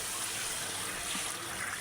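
Water pours into a cooking pot of browned potatoes, a steady soft splashing gush for a couple of seconds, fairly faint and continuous with no voices.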